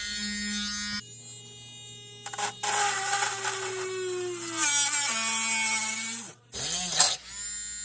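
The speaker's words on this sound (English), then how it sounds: "I'm using a little Dremel." A small Dremel rotary tool whines while cutting custom halo headlight parts for a BMW E34, pitch dipping as it bites, with a short stop and restart near the end.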